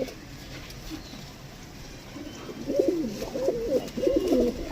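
Domestic fancy pigeons coo in soft, rolling, repeated calls that grow clearer in the second half, close by over a constant background hiss.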